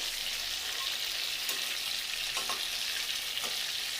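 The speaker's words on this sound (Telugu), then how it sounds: "ఇది మీడియం ఫ్లేమ్లో పెట్టుకొని కొంచెం లైట్గా వేయించుకోండి" Stuffed brinjals frying in oil on a medium flame, a steady close hiss of sizzling with occasional soft stirring clicks and no voices.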